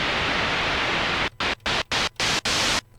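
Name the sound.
white noise from Roland JP-8080 synthesizer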